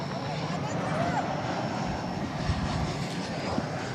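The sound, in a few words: American Airlines Airbus A321 jet taking off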